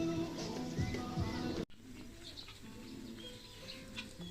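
Low coos of king pigeons rise and fall up close at first, then an abrupt cut to quieter outdoor farm ambience with faint chirps.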